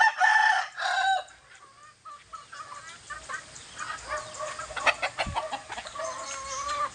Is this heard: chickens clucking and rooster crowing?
yes